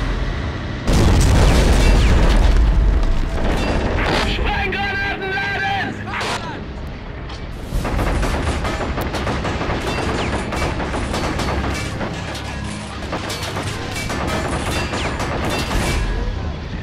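Artillery booms and bursts of gunfire from the World War II strategy game Men of War: Assault Squad 2, a loud heavy blast opening a dense, continuous battle mix of shots and explosions, with voices shouting in German among the gunfire.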